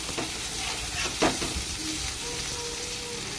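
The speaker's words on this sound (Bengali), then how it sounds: "আলুটাকে এদিকে ভাজা হোক" Lightly boiled potatoes coated in salt and turmeric fry in a pan with a continuous close sizzle and a few soft stirring scrapes.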